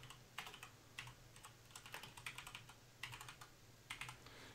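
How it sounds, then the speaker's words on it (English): Several people type on computer keyboards during a live card-game Q&A stream, producing faint, quick clatters in irregular bursts over a low steady hum, with no talking. "Got people typing."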